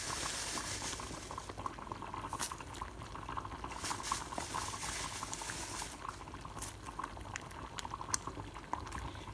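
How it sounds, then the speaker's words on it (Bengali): Masoor dal, a red lentil curry, bubbling at a boil in a cooking pot, with soft, steady popping and gurgling that stays faint and close throughout. "ডালটা যখন আবার ভালো করে বলক আসবে"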